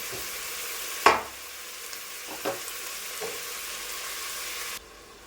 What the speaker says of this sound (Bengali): দেখুন প্রায় মাটনটা ভাজা ভাজা হয়ে গেছে